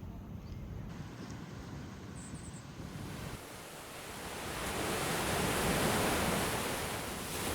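Surf rolling onto Duli Beach in El Nido, a steady broadband wash of waves that swells louder midway, with wind buffeting the microphone and no voices.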